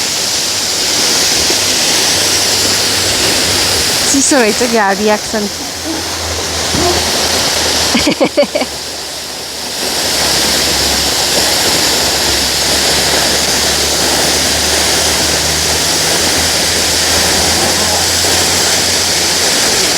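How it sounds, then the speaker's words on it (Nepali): A waterfall along the Poon Hill trek trail in Nepal roars with a loud, continuous rush of falling water; brief voices talk over it partway through. "झर्ना हो"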